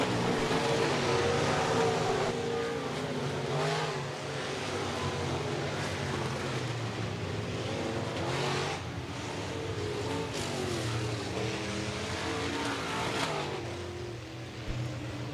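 B-Modified dirt track race cars roar around Rapid Speedway during a heat race, a dense continuous wash of engine noise rising and falling as the pack circles.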